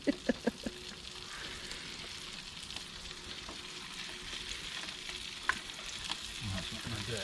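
Sausages fry in a pan inside a Land Rover 4x4 campervan parked in a field, a steady soft sizzle with a few sharp clicks early on and no talking.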